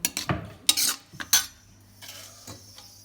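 Spinach, jhangora barnyard millet and kandali nettle greens being mixed together in a pot for a Pahadi dish, with a series of scraping, clinking stirs of a metal utensil against the vessel, close and moderately loud.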